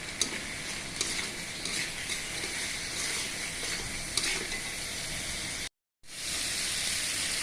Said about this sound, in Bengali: আর চিড়ে রাখা লঙ্কা দিয়ে একটু হালকা করে ভেজে নেব।